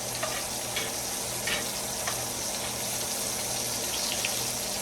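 A ribeye steak fries with garlic and butter in a cast iron skillet, making a loud, steady close sizzle with a few soft clinks and spatters on top.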